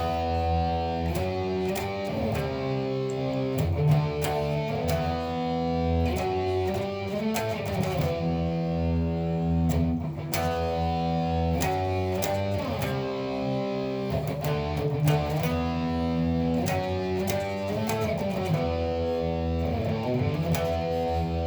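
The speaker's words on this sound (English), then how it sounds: "The intro sounds something like this, power chords the whole way" Heavy distorted electric guitar chugs through sustained power chords, thick and saturated, with a steady driving rhythm and no voices.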